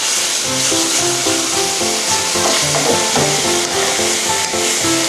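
Duck stir-fried with ginger in a pan gives a loud, steady sizzle with scraping and stirring strokes, heard continuously over a tonal, music-like background.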